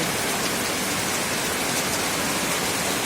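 Heavy, steady rain pouring down, a dense unbroken hiss with no pauses or voices.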